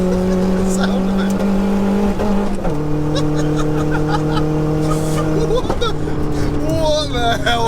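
Turbocharged 1-litre Nissan Micra engine drones loudly from inside the car while driving, dropping pitch on downshifts and climbing again as it revs, with a turbo whistle rising near the end.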